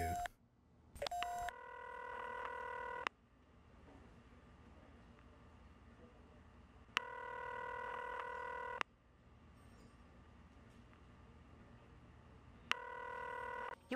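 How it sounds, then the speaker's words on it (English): Phone dialing and ringing on a call to the crime lab in The X-Files video game: a quick burst of dialing tones, then three long, steady electronic ring tones separated by quiet gaps, all heard clearly with no talking. "So, let's phone up the crime lab."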